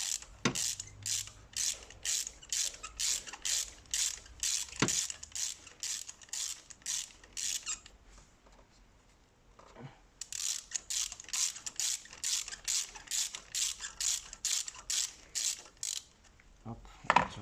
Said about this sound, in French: Grande rallonge avec cliquet et douille de 16 à bougie